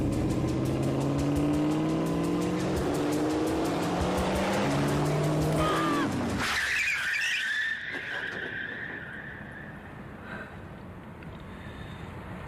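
A car accelerates hard with a rising engine whine, then its tires squeal and skid sharply before fading, heard alone without talk.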